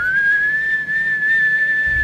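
A steady, sustained whistle holding one high pitch with slight wavering, continuous for the whole stretch over faint background noise.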